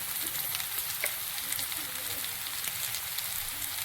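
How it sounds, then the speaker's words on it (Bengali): Chilli, coriander and cumin powders with turmeric fry in a pan, giving a faint, even hiss of sizzling oil that holds steady throughout with no stirring or talk. "একটু ভেজে নেব"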